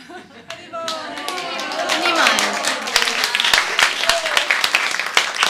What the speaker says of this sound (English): They prepared this in less than a day, so I think they deserve a big applause.